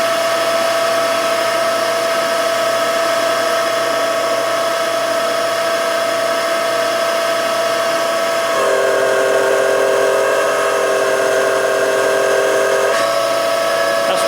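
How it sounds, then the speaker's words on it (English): A car's power steering pump whines loudly and continuously with the wheel held on full lock, its pitch shifting and straining for a few seconds near the end as the pump works on a rebuilt Adwest lightweight steering box. "You shouldn't hold the steering on full lock. You'll burn the pump out probably."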